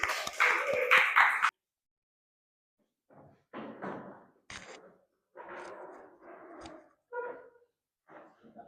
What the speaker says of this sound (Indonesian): Ayo beri tepuk tangan dulu dong.